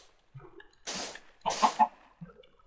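Chicken clucking in the video game Minecraft, a few short, soft clucks and squawks in quick succession, close and fairly quiet with brief gaps between them.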